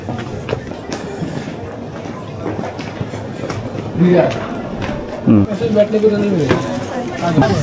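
Crowded passenger train running, a steady rumble with rhythmic rail clatter under loud nearby talk and crowd noise inside the carriage.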